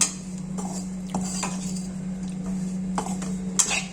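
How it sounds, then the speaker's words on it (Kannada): Raisins roasted in ghee in a pan, with repeated light clinks and scrapes of a spoon against metal over a steady low hum, close and moderate in level. "ನೋಡಿ, ದ್ರಾಕ್ಷಿಯನ್ನು ಹುರಿತಾ ಇದ್ದೀನಿ."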